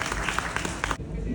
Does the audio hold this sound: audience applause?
yes